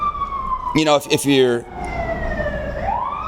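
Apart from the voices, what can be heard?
emergency vehicle sirens passing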